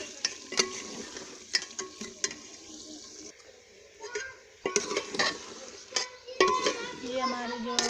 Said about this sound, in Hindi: ये हमारे जो मैंने कद्दू डाल दिया इसमें, और में कद्दू ऐड करके अच्छी तरह से मिक्स करेंगे